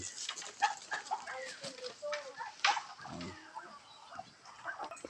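Chickens in a farm coop, clucking and chirping close by, with a person talking over the birds.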